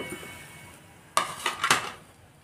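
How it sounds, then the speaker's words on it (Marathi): Fried modaks lifted out of the hot oil and set into a dish, giving three or four quick, close clinks and scrapes of utensil against plate after a quiet lead-in. "आता आपण हे डिशमध्ये काढून घेणार आहोत।"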